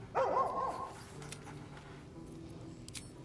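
In Baldur's Gate 3, a dog lets out a single short bark close by, followed by quiet soft whimpers and snuffles.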